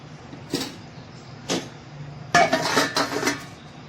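Apple murabba stirred in a metal pot, with a few separate clanks of the spoon against the pot followed by a quick cluster of scraping and knocking, close and fairly loud.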